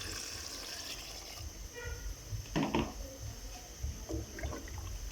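Water pours steadily into a cooking pot, soft and close, with a brief clatter of metal midway through.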